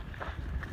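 Strong wind near wind turbines on the Pacific Crest Trail: a brief, steady low rumble of gusting air buffeting the microphone, with no voices.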